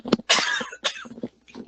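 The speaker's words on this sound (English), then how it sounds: "Excuse me for coughing there." A few sharp, close coughs in quick succession from a man during a software tutorial, harsh bursts with brief gaps between them and no talk over them.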